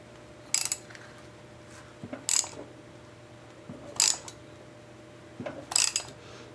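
Four short mechanical bursts spaced about two seconds apart as a Briggs & Stratton Model WI small engine is pulled over, each a brief clattering puff of compression, close and fairly quiet.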